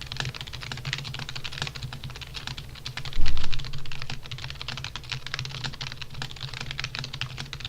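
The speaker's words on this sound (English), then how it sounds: "here's a quick typing sound test so you can get an idea of the volume of the switches" Fast, steady typing on a cheap budget gaming keyboard from a $10 mouse and keyboard combo, crisp close key clacks in a continuous rhythm with one heavier thump partway through, no voices.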